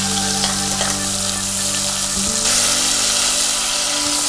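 Cashews, raisins and mint leaves sautéing in a pan of hot oil with whole garam masala: a loud, dense, continuous sizzle with stirring scrapes, close and unbroken, no voices.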